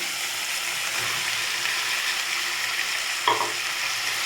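Okra tossed with onion and tomato in a hot pan gives a steady close sizzle, with a brief louder stir-scrape near the end and no voices.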